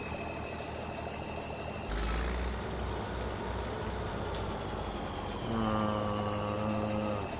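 An old tractor's engine in Farming Simulator 17 catches with a sudden burst, then settles into a steady droning idle that swells slightly louder later on, with no talk over it.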